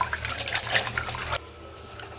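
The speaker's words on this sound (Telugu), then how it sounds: "వీటిని ఇప్పుడు శుభ్రంగా ఒకసారి నీళ్ళతో శుభ్రంగా కడుక్కోవాలండి." Water sloshes and splashes briefly as green beans are rinsed, followed by a quieter drip and trickle.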